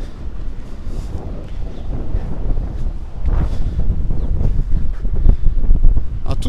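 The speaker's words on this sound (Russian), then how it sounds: "Тут ветер" Strong wind blowing on a seashore, buffeting the microphone with loud, continuous rumbling gusts that swell toward the end, with no voices.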